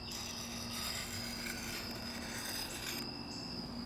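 A 7-inch K-bar BK7 knife is drawn across a Work Sharp Guided Field Sharpener, giving close, repeated rasping strokes over a steady background hum.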